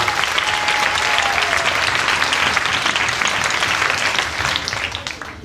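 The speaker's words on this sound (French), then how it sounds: "on peut applaudir Nathalie" A concert audience gives sustained, dense applause for a performer, loud and steady for several seconds before tapering slightly at the end.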